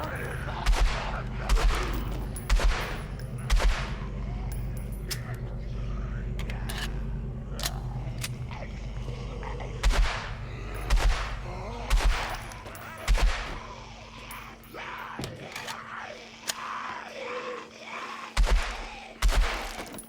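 Bursts of video game gunfire crack out repeatedly while zombies are shot inside a police station's cell blocks, loud single shots and quick volleys spaced through a steady background drone.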